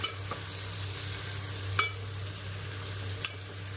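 Country chicken pieces with salt are stirred in hot oil, giving a low steady sizzle with a few sharp scrapes of the spoon against the pan, close and alone.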